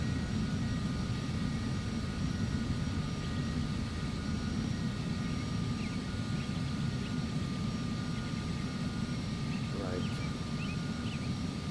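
Embraer Phenom 300 jet engines in the Prepar3D flight simulator, a steady loud whining drone that holds constant throughout, with a brief spoken word over it.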